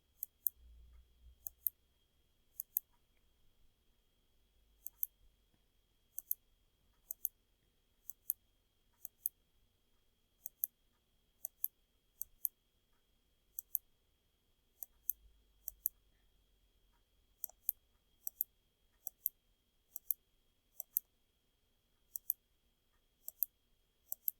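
Sharp computer mouse clicks come singly and in quick pairs at an irregular pace while the shift key is held down, crisp and close over near silence, with faint low thumps now and then.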